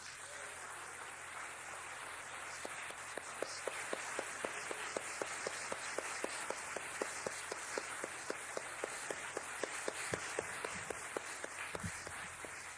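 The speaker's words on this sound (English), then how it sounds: "please give a rousing round of applause for our General Director, Dick Corsten" An audience at an opening ceremony applauds, a soft, dense wash of many hands clapping at a distance, with a regular sharp tapping running through it and no one talking.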